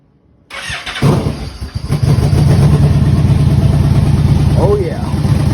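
A Yamaha Vmax 1200 motorcycle with Cobra pipes is started after a brief crank, catching and settling into a loud, steady rumbling idle close by.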